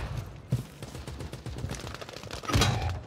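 Gunfire in the video game Warzone 3, a run of sharp shots and bursts in quick succession with a heavier blast near the end, moderately loud throughout.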